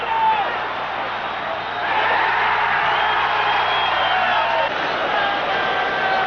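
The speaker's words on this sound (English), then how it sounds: "The crowd will tell you if they have it or not." A large football crowd at the Oakland Coliseum roars steadily throughout, a dense wash of cheering and yelling that swells slightly midway, heard from within the stands.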